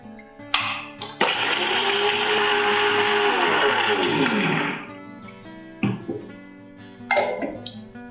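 Kitchen mixer grinder blending soaked cashews with yogurt in a jar, a loud whirring roar running steadily for about four seconds before winding down, with short bursts and clatter before and after.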